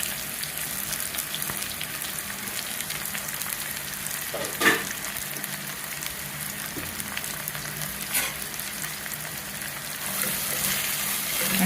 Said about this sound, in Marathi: हा कांदा चांगला गोल्डन होईपर्यंत चांगला भाजायला द्यायचा.